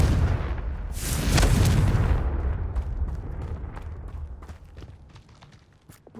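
The Confringo fire spell erupts in Hogwarts Legacy near a dragon nest, a heavy booming blast swelling in the first two seconds, then fading into scattered crackles and debris ticks.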